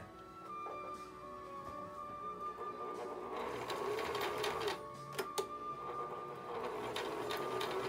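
A sewing machine runs steadily while stitching a breathable fabric face mask, a soft continuous whir at moderate distance with a few sharper clicks partway through.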